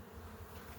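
Honeybees hum in a steady, dense drone at the entrance of a beehive, a continuous buzz close by with no voices.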